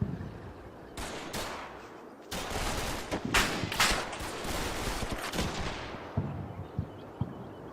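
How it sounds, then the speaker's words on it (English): Rifle grenades and an anti-tank rocket firing in the WWII tactics game Combat Mission: Battle for Normandy, a dense run of sharp explosive bangs and crackling shots, several loud blasts over a rumbling battle bed with no talk. "Those better be rifle grenades you're shooting. Oh, I think they fired an AT rocket, didn't they?"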